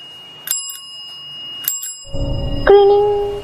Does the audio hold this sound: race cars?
no